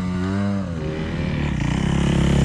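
A vehicle engine revving hard at full throttle on an open-pit mine track, a loud sustained roar whose pitch drops and then climbs again with a pulsing, straining tone.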